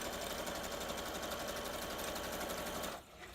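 Sewing machine stitching two-page journal signatures onto a fabric strip for book binding, a steady rapid mechanical hum and needle chatter running continuously at close range before stopping abruptly near the end.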